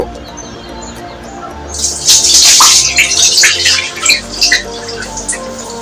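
Water splashes and pours loudly into a pot of rice being washed, starting partway through with gurgling bursts, while birds chirp faintly in the background.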